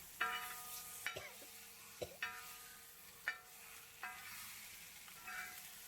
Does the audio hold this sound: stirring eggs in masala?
yes